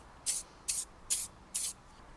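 XCP lubricant, a thick waxy spray, is applied to a motorcycle in four short hissing bursts, evenly spaced and close by, with quiet gaps between them.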